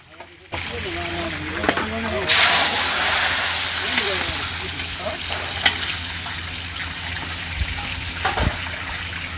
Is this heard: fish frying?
yes